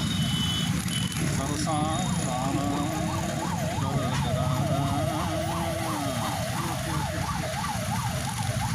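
An ambulance siren wails, rising and falling steadily through the clip, loud and continuous, over traffic noise and a voice talking.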